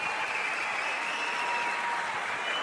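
Steady applause from a comedy show audience fills the room, dense clapping held at an even level throughout with no voices over it.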